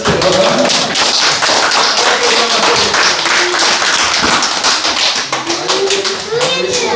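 A church congregation claps after a prayer, a dense run of sharp, rapid claps close and loud, with voices and a child's speech mixed in beneath.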